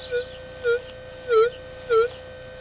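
Buried six and a half inches down, a quarter sets off a White's TDI SL metal detector, which answers with four brief swelling tones, evenly spaced, above a constant low electronic hum.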